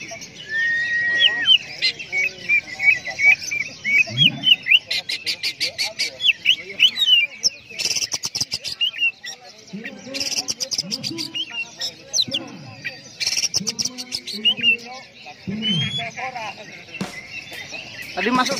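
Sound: oriental magpie-robin (kacer) singing

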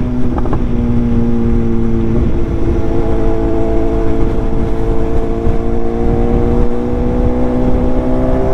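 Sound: Yamaha Tracer 900 motorcycle riding

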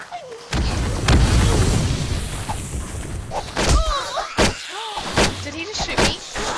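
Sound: sniper rifle gunshot in 7 Days to Die video game

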